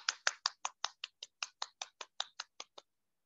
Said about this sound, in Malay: bagi anda sendiri satu tepukan